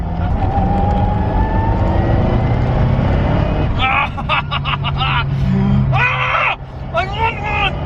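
A Lancia Delta Integrale Evo 2 rally car is driven hard down a road, its engine droning loudly and steadily, then revving in rising bursts as it accelerates, with people talking over the noise.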